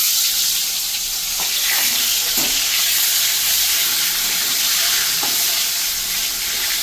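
Hilsa fish tail, rubbed with salt and turmeric, frying in hot oil in a kadai, giving a steady broadband sizzle with a few brief clinks and bubbling pops, close and continuous with no talk.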